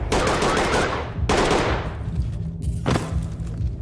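Gunfire in the tactical shooter Ready or Not: two sharp, loud shots a second apart, each trailing off with echo, then a softer thud near the end.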